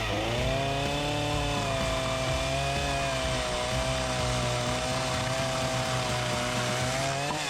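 A chainsaw runs continuously at a steady high idle, its harmonic engine whine close and loud and holding without pause, with no talk over it.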